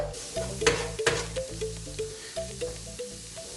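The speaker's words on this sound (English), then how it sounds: "Now you can see she'll start sizzling away and it'll turn into a paste." Spices sizzle in hot oil in a pan for chicken vindaloo, a close, steady fry broken by rhythmic scraping strokes of a spoon stirring the paste, with no voices.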